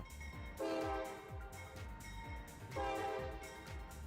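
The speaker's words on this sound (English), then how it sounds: "the crew inside gave me a tiny horn show" A locomotive horn sounds in two short, loud blasts over the steady rumble and rhythmic clatter of a passing train.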